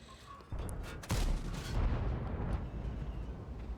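A Strv 103B tank gun firing in a tank battle video game: a sharp blast, then a heavy booming impact with a rumbling roar that rolls on and fades slowly, loud and close.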